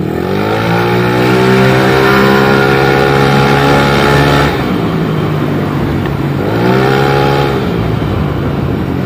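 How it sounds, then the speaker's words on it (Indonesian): Yamaha Lexi 155cc scooter engine revved hard in a sustained loud throttle blip, dropping briefly around the middle before a second rising rev, steady engine drone throughout without talk. "Coba kita geber di sini nih."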